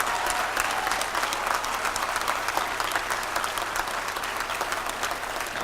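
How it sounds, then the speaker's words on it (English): Big round of applause from the crowd at a casino ribbon-cutting press conference, continuous clapping that stays fairly far off and even, with a low steady hum underneath. "Let's give her another big round of applause."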